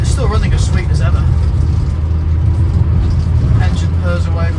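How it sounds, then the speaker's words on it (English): An Austin Allegro car engine runs steadily with a low, smooth hum throughout, with a person talking over it. "Engine purrs away lovely, gear change is nice and smooth."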